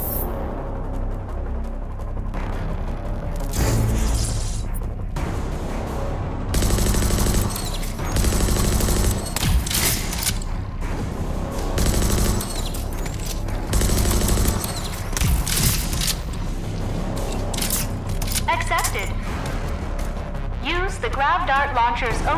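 The Grav-Dart Launcher fires in overdrive in the Rage 2 video game, with repeated bursts of rapid shots and impacts spread through the clip, loud and close, and a voice talking at points.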